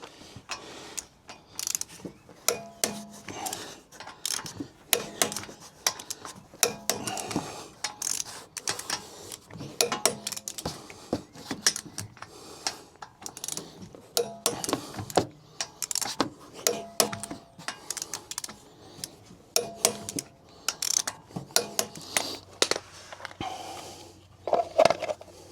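A torque wrench ratchets bolts tight on a Sprinter van, with a steady series of close, sharp clicks and metallic clatter in quick irregular bursts.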